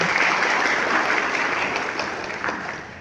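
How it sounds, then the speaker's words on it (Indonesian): Audience applause at an Indonesian Democratic Party training session for election witnesses, a dense, steady clapping that fills the room from the start and slowly fades toward the end. "Beri tepuk tangan untuk beliau."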